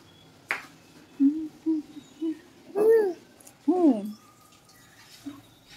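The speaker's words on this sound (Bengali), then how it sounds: "এই দেখো মাম্মা পায়রা" Pigeons give several low, soft coos in short spaced bursts with quiet gaps between them. Two of the calls are longer and swelling, and the birds sound near.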